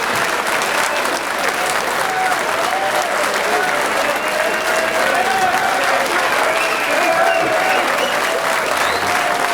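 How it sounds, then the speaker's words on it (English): Steady, dense applause and crowd noise fill an arena after a one-pocket pool final between Efren Reyes and Jason Miller at the 2006 Derby City Classic, loud and continuous throughout. "And the crowd is going wild"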